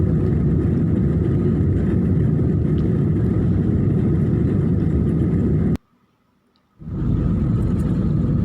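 Airplane cabin noise as the plane lands at Udon Thani: a loud, steady, broadband roar that cuts out for about a second near the end, then returns at full strength.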